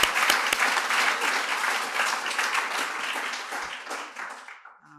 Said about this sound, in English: somebody was about to clap